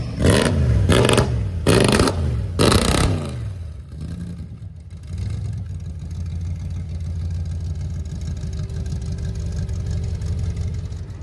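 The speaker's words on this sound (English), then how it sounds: "my favorite part is, of course, the long tube headers with the side edge exhaust, giving this engine a little bit more of that growl going down the road" A 1970 Ford F-100 Ranger XLT pickup's engine with C4 automatic, long tube headers and side exhaust revs in three loud, sharp bursts, then settles into a steady, rumbling low growl as the truck drives on.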